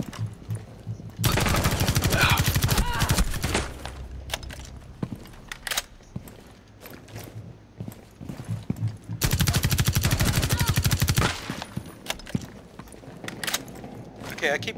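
Rapid bursts of automatic gunfire trade back and forth in a Rainbow Six Siege firefight in the Chalet wine cellar, loud sustained volleys around 1–4 s and 9–12 s with scattered single shots and footsteps between.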